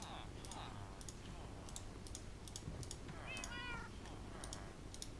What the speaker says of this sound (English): You can hear the cats.